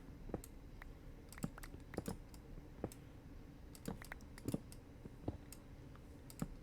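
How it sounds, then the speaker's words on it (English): Mouse and keyboard clicks while playing Minecraft, a steady scatter of sharp, close taps and clicks in irregular rhythm over a low room hum, with no voices. "I'm sure you can hear the clicking of my mouse as I do this."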